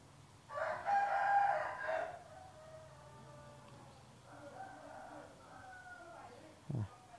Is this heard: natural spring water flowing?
no